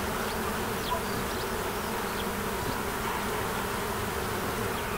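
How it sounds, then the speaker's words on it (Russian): Bees buzzing steadily among blooming cherry plum trees in a village yard in spring, a dense continuous drone of many insects close by, with no voices. "И пчелы исполняют весеннюю симфонию."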